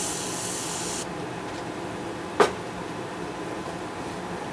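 A single short spray burst from a spray bottle onto a cloth, a sharp hiss lasting a fraction of a second, heard close over a steady background hum.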